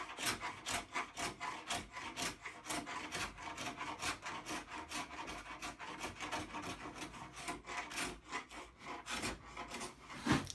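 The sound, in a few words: stripping old finish off a wooden farmhouse table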